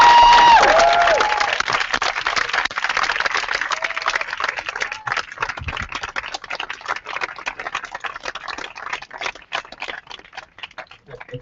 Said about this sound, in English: can we just have a really big round of applause for Michael, Paul and Ruth and the rest of the team for putting on.